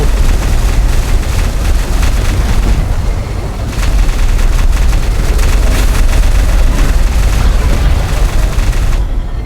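Loud, nonstop Minecraft gunfire from modern weapons fighting the Wither Storm, with heavy booms and explosions, a dense barrage running the whole way through.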